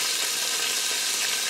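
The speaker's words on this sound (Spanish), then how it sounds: "sofreír un poquito, la almendrita" Almonds frying in a pan, a steady bright sizzle with no pauses, close and even in loudness, with no voices over it.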